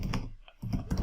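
A couple of soft computer keyboard key presses, such as tapping the F8 shortcut, sound close but muffled in a short quiet stretch.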